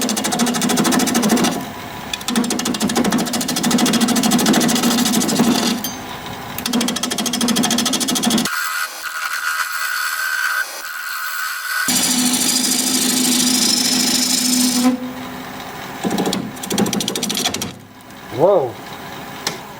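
A wood lathe spins a pecky cherry bowl at 800 RPM as a freshly sharpened 5/8 inch bowl gouge cuts, giving a loud, rough, chattering grind in sustained passes with a brief pause midway and a few uneven bursts near the end.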